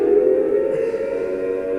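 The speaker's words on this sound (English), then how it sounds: "Once the siren started, oh God, what was that?" A loud, steady siren wails without a break in a horror tabletop game session set in Silent Hill, holding a thick droning pitch throughout.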